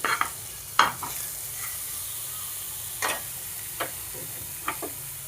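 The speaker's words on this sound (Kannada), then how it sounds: "ಪನ್ನೀರ್ ಉಪ್ಪು ಖಾರ ಹಾಕಿ ಸ್ವಲ್ಪ ಎಣ್ಣೆಯಲ್ಲಿ ತುಪ್ಪದ್ರಲ್ಲಿ ಫ್ರೈ ಮಾಡ್ಕೊತಾ ಇದ್ದೀವಿ" Paneer with salt and chilli powder frying in oil and ghee in a pan, a steady close sizzle broken by a handful of sharp scrapes and clinks as it is stirred.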